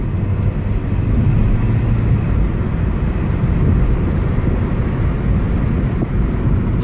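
Road noise from a 2013 Toyota Corolla driving with the windows open: a steady, broad low rumble of tyres, wind and engine, continuous and fairly loud throughout with no talk.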